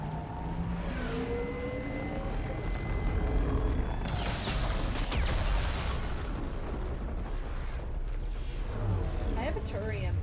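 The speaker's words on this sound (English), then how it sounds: "You can hear how heavy those cannons are on the dreadnoughts." Heavy dreadnought cannons firing in the video game Mass Effect 3, a deep rumbling boom with a bright, noisy blast in the middle, heard under continuous talk and game sounds.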